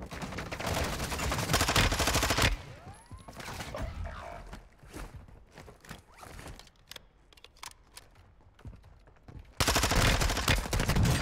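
Incoming gunfire in Warzone 2.0 at the player, dense automatic bursts loud and close at the start and end, with sparse single shots and mechanical clicks in between.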